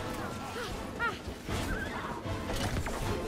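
Horses neighing inside the co-op video game It Takes Two: several whinnies rise and fall over a busy game soundtrack, with hoof clatter and a voice murmuring underneath.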